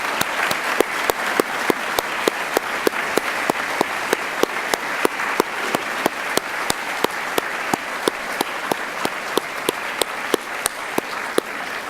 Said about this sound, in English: would you please join me in a round of applause?